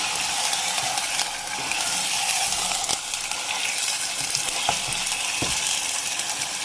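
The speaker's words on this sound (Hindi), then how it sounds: "और हमें इसे टमाटर के साथ भी अच्छी तरह भूनना है।" Chicken pieces and chopped tomato fry in a pot, with a steady close sizzle running throughout and light scraping and stirring sounds now and then.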